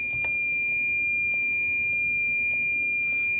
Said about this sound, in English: So if you had a high SWR, that would be beeping like super slow.